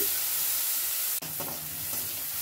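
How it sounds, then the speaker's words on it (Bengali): Grated onion and garlic fry in a pan over a high gas flame, a constant close sizzling hiss broken by a brief sharp drop, then a few soft stirring knocks. "দিয়ে পেঁয়াজ আর রসুনটাকে একটু ফ্রাই করে নিচ্ছি।"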